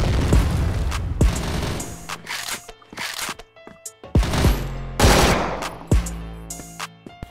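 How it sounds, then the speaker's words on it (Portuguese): Grenade explosion amid a firefight in the online shooter CrossFire: rapid bursts of automatic gunfire and sharp single shots, punctuated by heavier booming blasts, loud and close with brief gaps between volleys. "Granada!"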